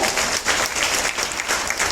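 Audience applause at a conference on Ganga river conservation and biodiversity, a dense, steady clapping that fills the whole stretch at a fairly loud level, with no voices standing out.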